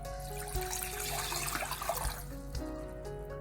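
Half a litre of water is poured into a pan to make kadha, a steady splashing, trickling stream heard close up over a faint tonal hum.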